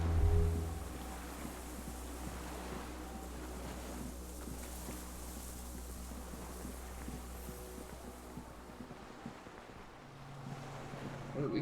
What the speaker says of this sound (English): Sound of cargo ships, signal points echo on the water.